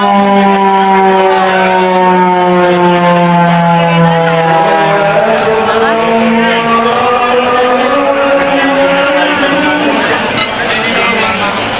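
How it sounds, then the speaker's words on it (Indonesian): A loud mosque siren wails continuously at a mosque in Jogja to mark the time to break the fast, its rising and falling pitch sweeping steadily for about twelve seconds with faint background sounds underneath. "tadi itu adalah bunyi sirene pertanda bahwa waktu berbuka puasa telah tiba"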